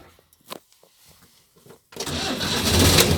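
A 1960s Citroën 2CV engine restarts: faint clicks and small knocks, then the small air-cooled engine catches and runs on with a steady, loud, close rattling idle.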